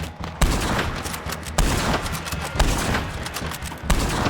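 A mounted machine gun in Red Dead Online fires loud, rapid bursts, with sharp reports repeating in clusters about once a second and a dense rattle between them.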